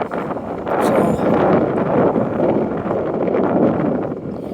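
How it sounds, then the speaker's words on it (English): Strong wind buffets the microphone in loud, rumbling gusts that rise and fall continuously. "Getting quite a bit of wind out there."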